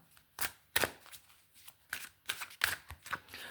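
Repeated crisp riffling and slapping bursts of a tarot deck being shuffled close up, irregular quick flurries separated by short pauses.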